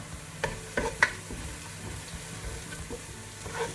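Ginger, garlic and garam masala fry in oil for a beef curry, a soft continuous sizzle under a few quick spoon taps and scrapes as the mixture is stirred, close and with no talk.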